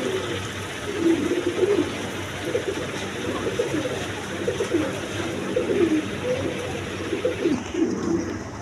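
Pigeons, Bombay breed, at a seller's place, cooing in repeated soft rolling calls throughout, close by, over a steady background hum.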